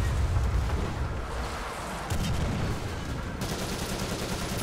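Artillery rumbles in a War Thunder tank battle with a British AEC Mk.II armored car, a heavy, continuous low boom and crackle that swells again midway, loud and close, with no voices.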